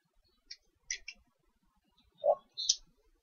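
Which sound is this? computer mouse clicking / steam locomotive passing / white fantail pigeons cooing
computer mouse clicking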